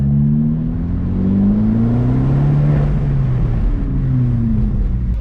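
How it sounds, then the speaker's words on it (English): An Abarth car fitted with an induction kit revving close by, a loud steady engine drone with pitch that rises and falls across several revs, with no talk. "That sounds like, definitely sounds like an induction kit."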